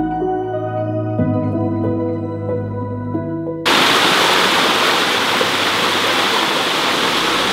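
A waterfall roars with a loud, steady rushing wash that cuts in abruptly partway through, after a stretch of tonal music.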